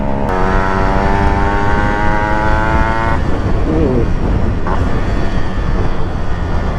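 Yamaha RX 135 two-stroke motorcycle with a tuned engine runs close by, loud and revving with rising harmonic whine that cuts off midway, followed by rougher engine and road noise.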